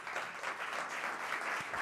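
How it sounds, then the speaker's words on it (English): A conference audience at a European public-sector technology summit gives steady, moderately distant applause for the opening speaker, an even wash of clapping that continues without a break. "A big applause,"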